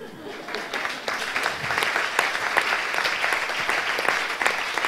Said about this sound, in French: il faut aussi absolument qu'ils m'applaudissent